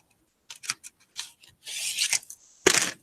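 Short bursts of scratchy rubbing as a colored pencil colors on paper, in uneven strokes close by with brief pauses between.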